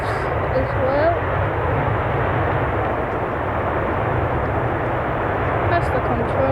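A Ryanair airliner departs past the Manchester Airport control tower, its engines a steady, moderately distant roar under continuous talking.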